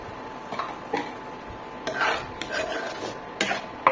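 Curry is stirred in a pan after a little water goes in, with a spoon scraping and clinking against the metal in irregular taps and rattles, close and moderately loud.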